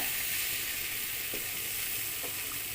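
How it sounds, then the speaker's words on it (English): Pieces of Brazilian beef sizzle steadily in a pan for Filipino afritada, a constant loud frying hiss with a few faint scrapes as the meat is stirred. "we have to put our meat back here in the pan. Just give a good mix."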